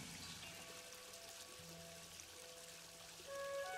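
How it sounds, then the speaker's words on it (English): Water flows steadily at a river, lake or shore, a soft continuous pouring and trickling wash that stays faint and even throughout with no voices. "listening to the peaceful sound of the water"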